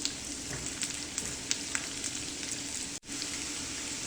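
Cauliflower florets frying in brown butter in a pan, a dense, steady sizzle with scattered sharp crackles and pops and a brief dip near the end.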